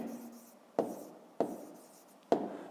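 A digit is handwritten in a quiet room. Three short, crisp strokes land about a second apart, each followed by a brief fading scratch over a faint low hum.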